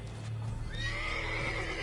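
A unicorn in The Witcher 3 lets out a single drawn-out whinny, rising and wavering over a steady low ambient hum, close and fairly loud with no voices.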